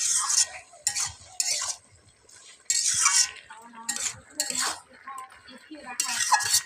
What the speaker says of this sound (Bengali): মাছগুলোর সাথে সুন্দর করে সবজিটা নেড়ে নেবো